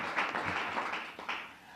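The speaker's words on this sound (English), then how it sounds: "Let's give them a round of applause." Audience applause at an evening gathering honoring Iowa direct care workers, steady broadband clapping from a crowd for nearly two seconds at moderate level, with no talk over it.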